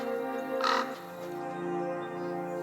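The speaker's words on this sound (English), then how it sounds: "The crow kept flying straight into the thorn bush. "Caw, caw!" it cried." A single harsh crow caw rings out briefly over a soft, steady musical backdrop.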